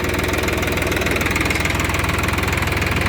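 Sonalika 745 III DLX tractor diesel engine idling in neutral with PTO disengaged, a steady close rhythmic knocking chug with no talk over it.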